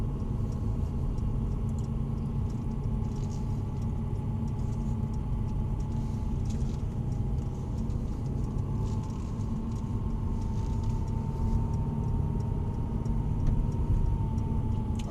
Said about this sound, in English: it's got that 4-litre twin turbo V8, essentially two of the A45 engines strapped together